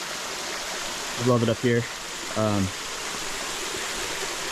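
A freshwater stream running beside a hiking trail makes a steady, close broadband rush of flowing water throughout, with a man's brief speech heard over it.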